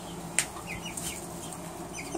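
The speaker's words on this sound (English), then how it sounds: "And there's Agnes the Australorp." Seven-week-old chicks, including an Australorp, cluck softly in a backyard flock, with a brief sharp call near the start and faint rustling after.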